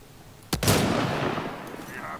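A sharp gunshot cracks from a sci-fi shooter game, Mass Effect Andromeda, followed by a long ringing decay and faint electronic tones, close and loud.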